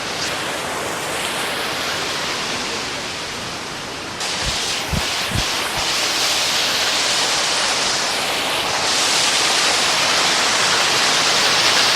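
Loud, steady rushing of a waterfall in Nepal, a dense hiss like heavy rain, with a few brief low thumps partway through.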